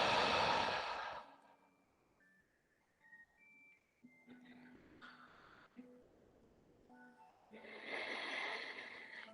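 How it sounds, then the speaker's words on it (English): Slow yoga breathing, drawing in through the nose and releasing out through the mouth with a soft ocean-like rush, comes in two long close breaths at the start and end with quieter sounds between. "breathe in through the nose and out through the mouth, and noticing the sound that makes as you breathe in and out, that ocean sound"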